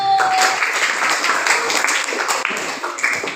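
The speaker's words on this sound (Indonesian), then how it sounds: "Beri tepuk tangan untuk kelompok 1." A short burst of clapping from a classroom group of students honoring a team, lively and uneven, fading slightly toward the end.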